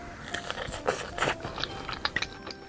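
Crunchy vegetable tempura being bitten and chewed: a run of crisp crackling crunches close to the mic, irregular and quiet, with a few sharper bites.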